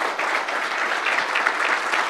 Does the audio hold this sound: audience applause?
yes